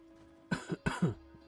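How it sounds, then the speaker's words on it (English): A few short, close coughs come in quick succession, two pairs of rough bursts in a quiet room. "excuse my cough"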